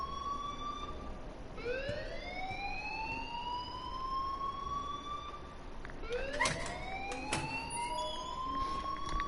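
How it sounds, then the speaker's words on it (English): A school alarm in Life Is Strange wails in rising electronic sweeps, repeating steadily at moderate volume with no talk over it. "please turn off that alarm since that's your job"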